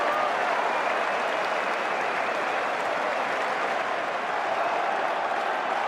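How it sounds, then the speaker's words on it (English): A large cricket crowd at Lord's cheers and applauds after a boundary, a dense, steady roar of clapping and voices that holds loud and unbroken throughout. "Listen to this crowd now."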